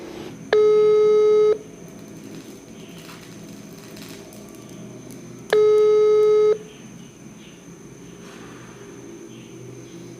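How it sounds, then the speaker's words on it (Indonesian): Telephone busy signal from an outgoing call, two loud sustained tones about a second each, a few seconds apart, over a steady low hum of room noise. "saat ini saya sedang mencoba untuk menghubungi narasumber kita atau teman ngobrol saya malam hari ini"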